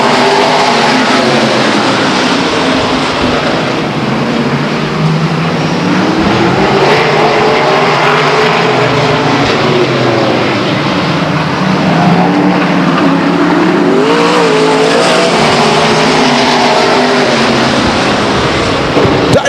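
Race cars roaring down the front stretch at Stockton 99 Speedway during a green-flag run, engines loud and continuous, rising and falling in pitch as the cars dice side by side.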